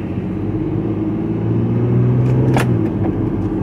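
A car on a test drive, one of two new cars, with a steady low engine rumble and road noise throughout. A brief clunk comes near the middle.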